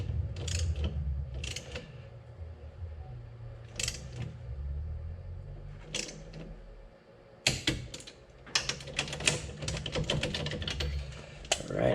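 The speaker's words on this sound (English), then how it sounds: "The next thing to do is we got to torque them to 35 foot-pounds." A torque wrench tightens Wilwood brake bolts to 35 foot-pounds on a Quick Performance 9-inch axle of a Camaro, giving close, dry ratcheting clicks in short bursts that grow busier toward the end, with no talk.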